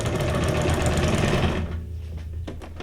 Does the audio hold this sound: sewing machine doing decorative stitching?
yes